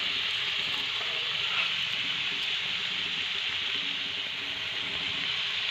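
Beans frying in a covered pan, a soft continuous hiss and sizzle like light rain, steady and fairly faint, heard alone without talk.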